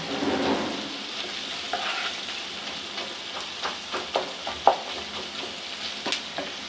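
Sliced onions sautéing with salt in a pan for a Chalakudy-style chicken curry, a soft steady sizzle broken by scraping stir strokes and a few sharper clinks of the spoon, with no voices.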